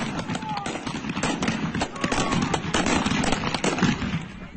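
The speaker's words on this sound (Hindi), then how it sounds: "ये आमने सामने की फायरिंग का वीडियो देखिए। न सिर्फ आगजनी, दोनों तरफ से सैकड़ों राउंड फायरिंग।" Gunfire exchanged between Iranian forces and protesters during clashes in Iran: dense, rapid cracks and bangs fire almost continuously at a loud, fairly close level, with voices faintly mixed in behind.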